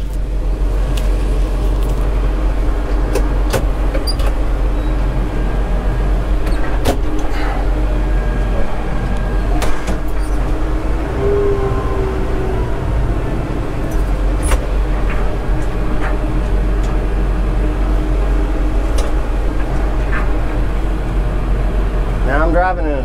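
A tractor engine drones in a steady low rumble while it pulls a box blade to grade a gravel driveway, with someone talking over the constant noise.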